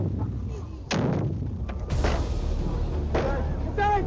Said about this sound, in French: Une première explosion à une dizaine de mètres de la fosse